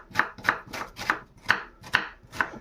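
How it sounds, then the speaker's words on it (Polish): Onions are chopped by hand with a knife on a board, six crisp, evenly spaced chops about half a second apart, close and clear with no talk. "Cebulę kroimy ręcznie."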